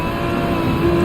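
Nissan GT-R race car engine during a Gran Turismo 7 race, a continuous loud, close drone with a slight rise in pitch at the end of the brief stretch.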